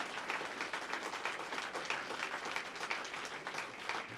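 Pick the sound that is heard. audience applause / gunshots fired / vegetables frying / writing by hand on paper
audience applause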